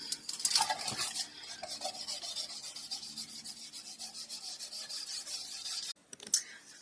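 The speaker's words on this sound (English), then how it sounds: "I will come in and just rub this all in all the way around this wood piece" Close, soft rubbing and scraping as antique wax is worked by hand into a wood piece, irregular strokes with brief louder scuffs and short pauses, no talking.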